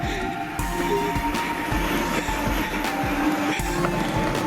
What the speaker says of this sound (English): That thing's doing burnouts.